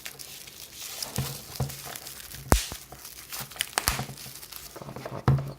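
Plastic packaging holding Pokemon cards is pried and torn open up close, giving irregular crinkling, crackling and tearing with a few sharp snaps, no talk over it.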